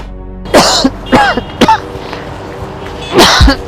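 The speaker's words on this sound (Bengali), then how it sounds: "না ভাই, পুরো সামান্য কাশি ভাই" A person coughs in four sharp, close bursts, three in quick succession and one after a pause, over a quiet background with no speech.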